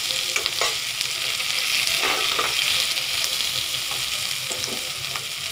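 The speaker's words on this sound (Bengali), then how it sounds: "শিমগুলো লাল হয়ে গেছে ভাজা" Green beans fry in a pan while being stirred, a continuous sizzle punctuated by scraping and clattering stirring strokes at an uneven rhythm, fairly close and with no talking.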